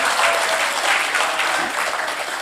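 Audience applause at an Urdu poetry mushaira in Chinchwad. Loud, dense clapping from a large crowd continues without a break for the whole stretch, with no voices standing out.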